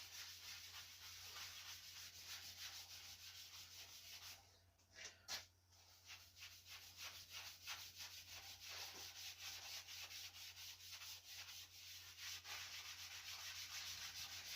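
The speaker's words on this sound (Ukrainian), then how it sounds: "Трішки вмочили і круговими обертами втираю поверхню" Steady circular rubbing of a cloth or pad working an asphalt-effect decor coating into a surface, a continuous close scrubbing texture with a brief pause midway, over a low constant hum.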